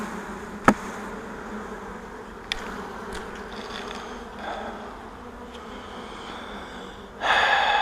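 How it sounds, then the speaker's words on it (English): Honey bees buzz in a dense steady drone after being shaken off a hive frame, with a couple of sharp knocks early on and a louder burst of buzzing near the end. "I'm going to shake the bees off of this."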